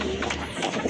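A Kagoji pigeon gives a brief, soft coo close by, a short low murmuring call heard alone against faint background noise.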